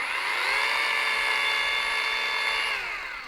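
A FLEX 24V rotary polisher spins steadily at speed 3, about 1050 RPM, giving a smooth, even whine close by that holds for about three seconds and then starts to wind down.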